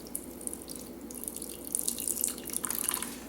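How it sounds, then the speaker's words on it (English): Warm water trickling and dripping into a cup of honey, a soft, fairly quiet pour that grows busier and splashier toward the end. "I'm going to put just a little bit of warm water."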